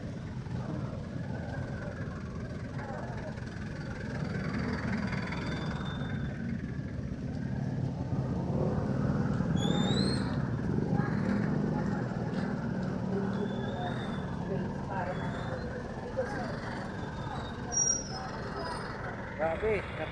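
Steady low rumble of a long Saturday traffic jam, with cars and trucks idling in a stalled queue while people walk past, and indistinct voices over the continuous engine drone.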